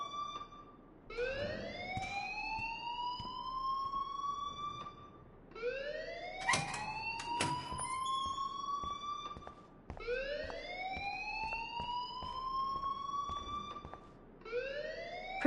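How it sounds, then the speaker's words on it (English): A wailing electronic school alarm from the video game Life is Strange, rising in repeated long sweeping tones about every five seconds, loud and continuous, with faint scattered background noises. "please turn off that alarm since that's your job"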